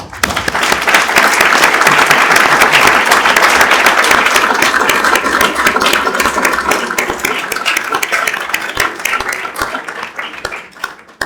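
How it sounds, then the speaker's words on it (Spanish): Loud, sustained applause from an evening audience at a Spanish lecture on the history of Cartagena's submarines, dense clapping close by that holds steady and then thins and tapers off near the end. "pido otro aplauso para él"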